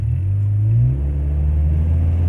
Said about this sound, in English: My car never sounds like that when it revs up.